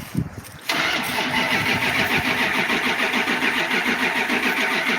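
An old red vehicle's engine cranks briefly on weak batteries and then catches, settling into a steady, close running idle.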